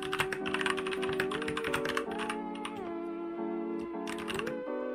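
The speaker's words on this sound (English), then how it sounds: "I use a Keychron K2 V2 with brown switches. I really like the sound of the switches." Typing on a Keychron K2 V2 keyboard with brown switches: quick, close clicky taps in rapid runs with brief pauses, clear and fairly quiet, with no talk over them.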